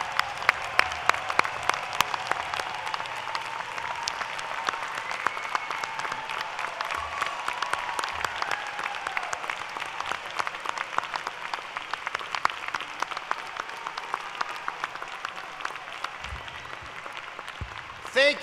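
Relatives and supporters receive sustained applause from the audience at a graduation ceremony: dense, even clapping from a large crowd that lasts throughout, heard from a moderate distance with a few sharper individual claps near the start.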